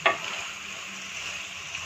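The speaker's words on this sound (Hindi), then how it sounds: "अब मैं थोड़ा सा इसको ज़रा भूनूंगी, जो पानी है थोड़ा सा वो भी सूखा हो जाएगा।" Potato and radish pod curry sizzles steadily while being sautéed in a pan, a continuous close frying hiss with a brief stir clatter at the start.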